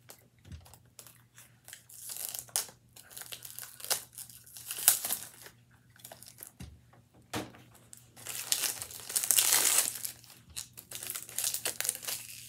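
Plastic wrapping on hair product packaging is torn and peeled away, producing steady close crinkling and crackling with brief pauses and a denser, louder burst of rustling toward the end.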